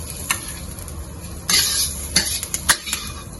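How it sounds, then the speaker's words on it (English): Big onion stir-fried in capsicum oil in a wok, a steady sizzle broken by sharp scraping and clanking strokes of a spatula against the metal, close and busy in the second half. "Now we just need to coat the big onion with the capsicum oil and then take it out"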